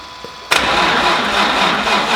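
A twin-turbo Nissan 350Z engine cranks and catches on its first start-up, bursting suddenly from near quiet into a loud, rough running rumble that holds steady close by.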